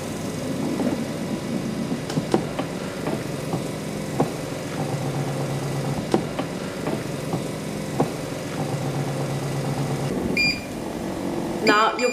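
A 3D vacuum press for printing on iPhone covers runs with a steady motor hum, with a few clicks and knocks throughout and a brief beep near the end.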